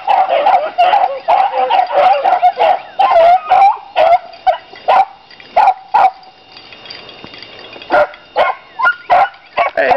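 Hunting dogs bay and bark in rapid bursts while chasing a raccoon, a chorus of overlapping voices near and loud. The baying comes in steady clusters, thins briefly, then resumes in sharp separate barks.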